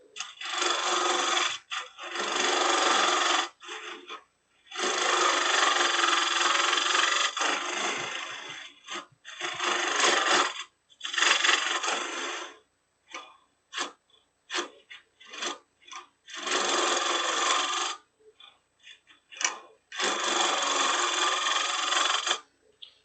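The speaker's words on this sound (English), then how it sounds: "we're going to grab a round nose carbide tool. See how we can do with this as far as hollowing." Round nose carbide tool hollowing the inside of a wood box on a lathe, loud rasping cuts in repeated bursts of a few seconds each, broken by short pauses and brief scraping touches.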